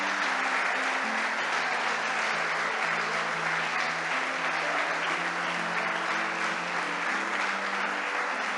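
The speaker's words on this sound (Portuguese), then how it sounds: "Pode aplaudir o Senhor" Steady, dense applause from a church congregation during a worship service, continuous and fairly loud throughout, with a sung or sustained musical tone faintly underneath.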